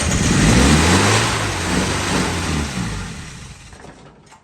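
A freshly revived vintage engine, timing set roughly and carburetor untuned, runs loud and rough with a low uneven chug that eases off slightly toward the end, heard alone without talk.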